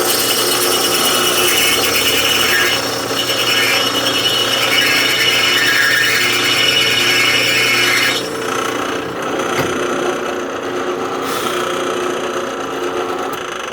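A drill bores into an air-cooled VW Type 3 engine case, a steady whining, grinding drone with slight shifts in pitch that eases lower partway through as cutting continues.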